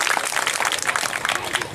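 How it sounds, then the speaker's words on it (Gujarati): An audience at a Ram Katha ceremony breaks into lively applause, with many hands clapping in a dense, slightly uneven patter, close and moderately loud, carrying on without a break. "બધા તાળી પાડી બધાવી લેજો પ્રેમથી"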